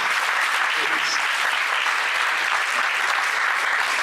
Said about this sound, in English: Once again, give me a round of applause.